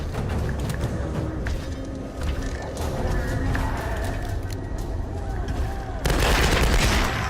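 Gunfire in Tomb Raider: Definitive Edition, a steady stream of sharp shots and clatter amid game noise, swelling louder toward the end.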